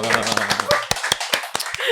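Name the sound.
applause, audience clapping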